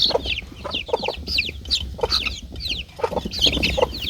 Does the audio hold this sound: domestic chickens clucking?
yes